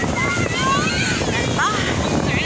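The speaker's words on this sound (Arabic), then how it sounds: "النهارده الجمعة والبحر جميل جدا ومياه دافية" Wind gusting across the microphone with sea surf and waves at Port Said beach on the Mediterranean, a steady broadband roar under faint whistling tones and no voices.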